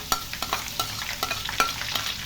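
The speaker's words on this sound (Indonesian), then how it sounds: "langkah selanjutnya kita akan goreng seledrinya juga" Celery leaves frying in hot oil while being stirred for a Padang-style garlic-celery peanut snack: a steady close sizzle with repeated scraping stir strokes, about six in a couple of seconds.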